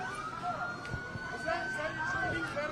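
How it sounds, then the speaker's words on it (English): A police siren wails at a moderate distance during a protest in Minnesota, its tone rising and falling steadily, with a faint voice and street noise underneath. "Hearing sirens not too far from where we're standing"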